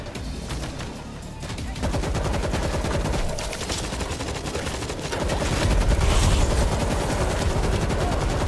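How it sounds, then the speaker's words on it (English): Rapid automatic gunfire from World War Z's zombie-infested New York level, with dense bursts and single shots that build into heavier, louder volleys toward the end. "Stop shooting!"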